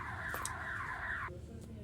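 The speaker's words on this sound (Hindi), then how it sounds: "वो थोड़ा अलार्म बज रहा था एक्चुअली" An electronic alarm rings indoors with a steady piercing tone that glides slightly downward, then cuts off abruptly, leaving quiet room hiss.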